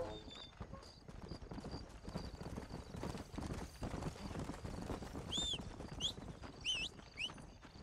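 Horse hooves clip-clop at a steady trot in the Red Dead Redemption: Undead Nightmare video game, rhythmic and fairly close, with a few high bird chirps near the end and faint game ambience underneath.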